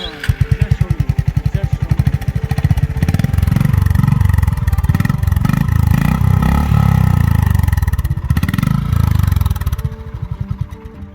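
A Honda H'ness 350 motorcycle engine runs close by with a throbbing idle, then revs up and holds a strong, rumbling roar before settling back to a chugging idle.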